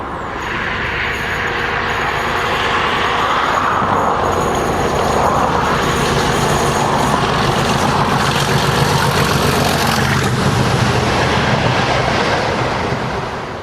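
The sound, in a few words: class 37 diesel locomotive 37603 hauling locomotives through Culham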